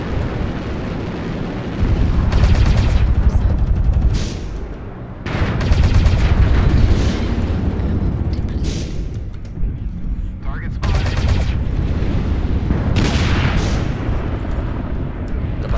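Machine gun fire in the mech combat game MechWarrior Online from a Javelin 11F light mech, loud dense bursts of rapid fire layered with explosions and game noise, several surges over a continuous rumbling background.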